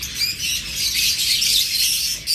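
Pet lovebirds or budgerigars chirping together, a dense, continuous high twittering chorus held close and loud for the whole stretch, with no voices.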